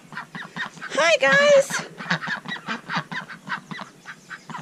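Ducks in a pen honk and quack in a rapid, continuous series, close and fairly loud, while someone speaks a short greeting over the start of the calls.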